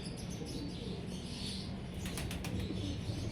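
Pigeons flap their wings nearby, a soft flutter that swells into a quick burst of clapping wingbeats toward the end, over a faint background hum.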